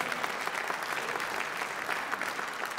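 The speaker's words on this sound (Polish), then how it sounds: "Proszę, brawa śmiało." Dense, steady applause from a concert audience at a jubilee cabaret show in a hall, filling the whole moment at an even level with no pauses.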